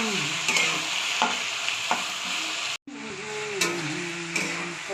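Chicken pieces sizzle in a pan with onions while a spatula scrapes and stirs repeatedly, a constant frying hiss broken by rhythmic metallic stirring strokes close up.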